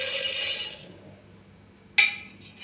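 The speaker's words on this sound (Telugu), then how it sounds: "మిక్సీ జార్లో పుట్నాల పప్పు వేసుకోవాలి" Roasted gram dal is tipped into a mixer jar, giving a hissing rattle of dry lentils against the container, a pause, then a sharp clatter of another pour.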